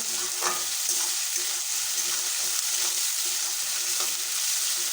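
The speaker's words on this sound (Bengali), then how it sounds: "এবার দিয়ে দিচ্ছি চিংড়ি মাছ লবণ হলুদ মেখে নিয়েছি সবগুলো একসঙ্গে ভালো করে ভেজে নেব" Prawns coated in salt and turmeric fry in a pan, a loud continuous sizzle with occasional stirring scrapes and a faint tonal hum underneath.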